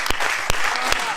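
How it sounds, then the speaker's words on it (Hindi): An audience applauds during a spoken religious discourse, giving dense, steady clapping close by with a few sharp louder claps standing out. "आपकी तालियां कमजोर है मेरे भाई"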